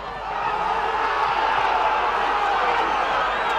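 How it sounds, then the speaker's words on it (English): Rugby league crowd at a Betfred Championship match between the Eagles and Bradford Bulls, a sustained roar of cheering and whoops filling the ground, loud and steady throughout. "Well, the crowd again into this now."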